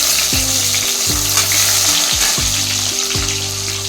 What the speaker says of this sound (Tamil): இப்போ நம்ம அந்த கிள்ளி வச்ச வரமிளகாயும் பூண்டையும் தட்டின பூண்டையும் போட்டுருவோம்